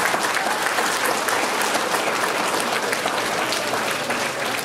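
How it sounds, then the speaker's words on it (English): An audience at a school results ceremony breaks into dense, sustained applause for a guest, loud and even throughout with no speech over it. "Give him a round of applause"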